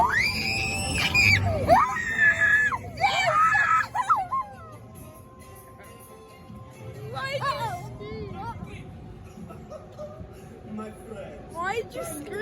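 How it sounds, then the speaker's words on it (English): Riders scream on a scary amusement car ride themed around Luigi's car and Mater's tractor: loud, high, sustained screams at the start, then excited chatter and more shrieks from people close by. "Why'd you scream? It was scary."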